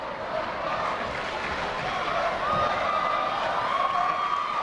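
A packed high school boys' basketball crowd in Moline, Illinois, playing Rock Island, roars in a steady, dense wall of cheering and shouting that holds for several seconds with no single voice standing out.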